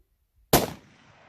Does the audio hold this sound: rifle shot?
yes